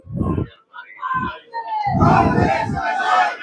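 A crowd at a Congress party protest in Jind, Haryana, with loud bursts of many voices shouting and calling out, swelling into a sustained noisy roar of chatter.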